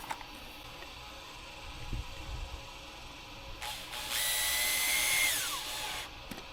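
A power drill drives screws in close up, with a couple of clicks and handling knocks early, then a short whirring burst that rises and holds in pitch for a second or two before winding down.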